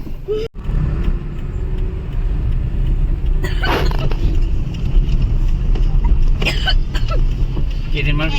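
A vehicle's engine drones steadily on a climb high up a mountain road, a continuous low rumble with a few brief rattles and muffled sounds over it.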